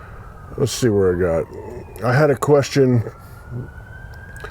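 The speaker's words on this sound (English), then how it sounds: "And I apologize for the sirens." A siren wails faintly in the background, a thin rising tone running beneath a person talking nearby.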